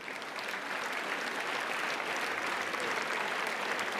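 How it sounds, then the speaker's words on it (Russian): An audience at the New Wave show opening gives sustained, even applause, a dense wash of many hands clapping steadily throughout. "Под ваши аплодисменты, естественно."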